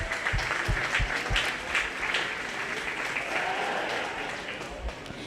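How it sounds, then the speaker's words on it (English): Audience at a 4-H/FFA sheep and little lambs show applauds the volunteers and parents, steady broadband clapping from a crowd lasting several seconds with no talk over it. "why don't we go ahead and give them a big round of applause"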